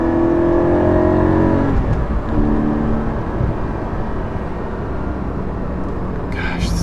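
Porsche 718 GT4 with a six-speed manual pulling hard in third gear near 4,800 rpm at about 64 mph, a loud, close engine howl with rising tones that then settles into a steady roar of road and wind noise.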